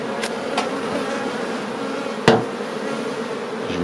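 A steady hum of honeybees fills the air around a hive, with a single sharp knock partway through.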